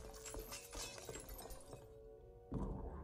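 Glass shatters inside the Ghostbusters video game, a run of crisp breaking and clattering shards across the first two seconds, followed after a short lull by another louder crash.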